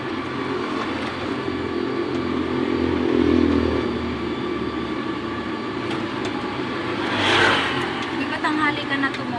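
Motorcycles and a car pass along a road in light rain. Engine hums rise and fade as each vehicle goes by at moderate distance, with one louder pass near the end, and voices talk over the traffic.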